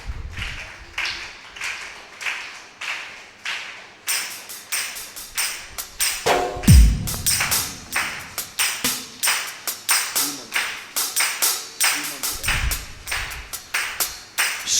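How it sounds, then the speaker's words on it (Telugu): A congregation at a live Christian thanksgiving prayer meeting claps in a steady, brisk rhythm, many hands striking together in regular beats, with a voice briefly heard among them. "కొట్టండి చప్పట్లు"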